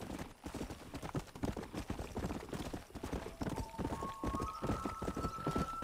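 Horse hooves clip-clopping in Red Dead Redemption, a steady, close, loud patter of rapid hoofbeats that never lets up, with a faint rising tone entering near the end.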